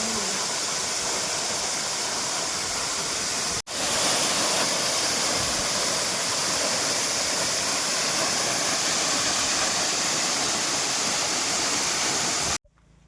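A hidden waterfall near Karbude village roars with a loud, constant wash of rushing water. A single brief break interrupts the flow sound, and it ends abruptly.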